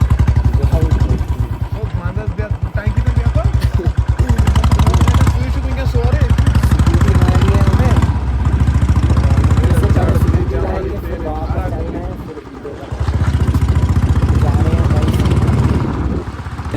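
A scooter engine runs loud and close with a steady throbbing drone, dipping briefly near the end, while people talk over it.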